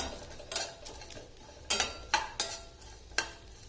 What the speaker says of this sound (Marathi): हा इकडचा सुका मसाला थोडासा आधी आपण परतवून घ्यायचा